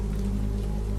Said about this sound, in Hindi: बाहर की बारिश की आवाज अब और साफ आ रही है।